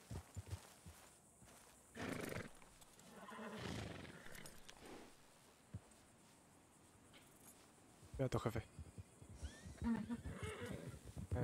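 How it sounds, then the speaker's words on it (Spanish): Horse neighing and hoof sounds in a Western ranch roleplay video game, a few whinny bursts around the midpoint and again near the end, mixed with game ambience while people talk over it. "Veo un caballo nervioso que puede ser el de mi jefe."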